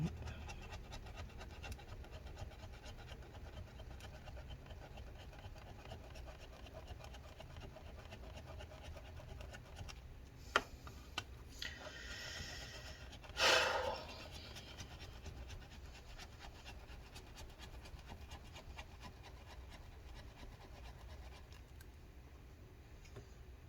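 Steady, faint scraping and rubbing as adhesive is worked off the battery of a 2012 15-inch MacBook Pro A1398, with a few sharper scratches near the middle.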